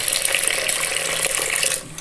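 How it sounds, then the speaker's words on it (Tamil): Water pours steadily over soaked green gram in a pot, a bright continuous splashing rush that fills the clip and drops off near the end, with no talking. "தேவையான அளவு பச்சை பயிர் மூழ்கிற அளவுக்கு தண்ணி ஊற்றிக்கலாம்."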